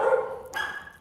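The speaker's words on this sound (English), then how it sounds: "Heat, dogs barking." A single dog barks in a neighborhood, one short sharp bark with a slight yelp at its tail, fairly close and alone, with no other noise.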